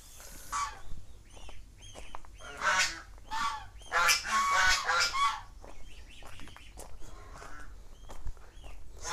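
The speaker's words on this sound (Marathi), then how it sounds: "बदकं सोडले त्यांनी बाहेर फिरायला।" Ducks roaming outdoors near a temple and hill give a series of loud, nasal honks and quacks in irregular bursts, close by at first and then thinning to scattered calls, with no one speaking.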